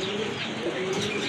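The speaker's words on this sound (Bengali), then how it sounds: "এটা হচ্ছে আপনার রেসার কবুতর, অরিজিনালি রেসার কবুতর।" Big-sized racer pigeons at a pigeon seller's stall coo steadily and close by, with a few soft chirps mixed in over a constant background hum and no talk.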